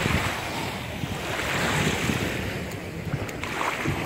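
Steady rush of Black Sea waves breaking nearby at Odessa, mixed with gusty wind buffeting the microphone, continuous throughout with no voices.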